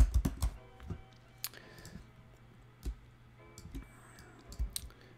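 Sparse, quiet keyboard clicks and scattered key taps at a computer while working in Illustrator, irregular and close, with a low background hum.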